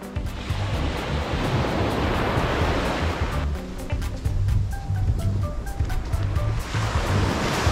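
Waves breaking on Songjeong Solbaram beach, a sandy shore backed by pine forest, give a loud, continuous surf roar with wind buffeting the microphone.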